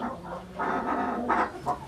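Soft, intermittent clucking from nearby Ispenç and crested chickens in a coop, a few rising calls over a steady background hum.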